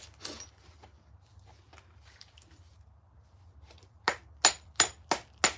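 Stone flakes are knapped from a core with a hammer stone, faint scraping and handling at first, then five loud, sharp, evenly spaced cracking strikes close up at the end.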